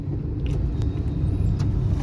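A car engine in a driving lesson accelerating in third gear after a gear change, a loud steady low rumble close by with a few faint clicks and no talk.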